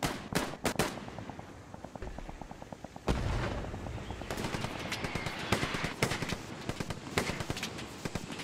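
Combat in the World War II shooter Hell Let Loose, where machine-gun bursts, sharp single gunshots and heavy booming impacts overlap at varying distances, loud and continuous across the whole clip.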